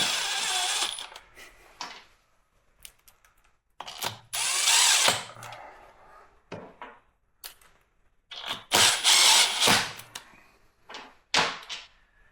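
Power tool on a Harley-Davidson M8 cam install driving bolts down in loud repeated bursts, each run a second or so long with quiet gaps and small metallic clinks between them.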